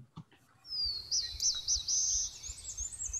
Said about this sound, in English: fun to listen to all the birds